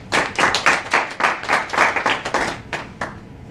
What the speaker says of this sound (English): So with rousing applause